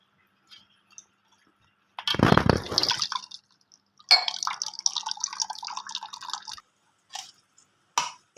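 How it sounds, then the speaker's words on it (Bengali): Cold water poured over strained date sweets, two bursts of splashing rinse, the second longer and steadier, with a few soft drips and clicks between and after; close and fairly quiet, no talking. "এবার ঠান্ডা জল দিয়ে ধুয়ে নেব।"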